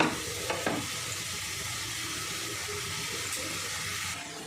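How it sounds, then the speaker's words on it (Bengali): Tomato spice masala with turmeric and salt fries steadily over medium-low heat in a pan for a vegetarian dish, a continuous close sizzle with a few scraping stirs early on and no voices. "এবার মশলাটা ভালো করে কষিয়ে নেব।"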